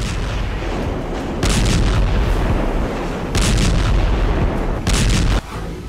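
Heavy bombing of residential areas in Gaza: a constant roaring rumble with three loud, sustained bursts of explosive blasts, each lasting about a second or two, with no voices.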